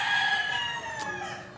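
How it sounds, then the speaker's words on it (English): Chickens cluck and a rooster crows close by in a short, loud burst of farmyard calls with a steady background hum. "Yes, the chickens."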